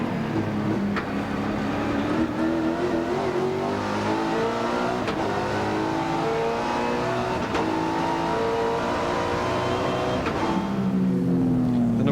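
Inside a touring race car at the 1994 Sandown 500, the engine roars loud and unbroken, rising and falling through gear changes amid heavy cabin noise, vibration and rattle with no talk.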